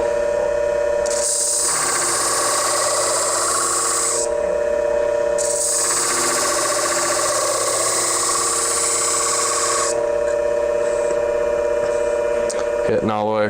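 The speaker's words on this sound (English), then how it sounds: "This is 800 grit on the flat plate," Groomer texturizer shears are sharpened on an 800 grit flat plate with no cushion, making long rhythmic rasping strokes that scrape back and forth close up, with a voice talking throughout.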